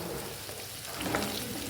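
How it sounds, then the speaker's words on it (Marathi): Four chopped onions fry in oil for masala paneer, giving a faint, even sizzle that stays soft and steady throughout. "मसाला पनीर बनवण्यासाठी मी 4 कांदे घेतले, ते कट करून तेलात भाजूया"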